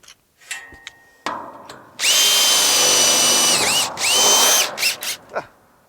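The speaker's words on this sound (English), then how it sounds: "I'm gonna run around and drill them all" A power drill whirs in long, loud bursts close by, pitch dipping as it bites while driving screws into a feed bin boot, after a few quiet clicks and handling noises.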